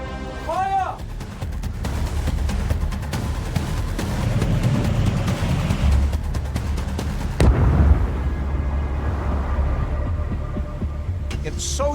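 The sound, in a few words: torpedo explosion hitting the ship Royal Oak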